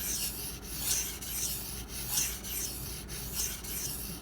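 A knife blade of CPM-20CV steel, a Zero Tolerance 0393, scrapes across a freshly flattened 220 grit whetstone in repeated close strokes, a rhythmic gritty rasping with brief pauses between passes.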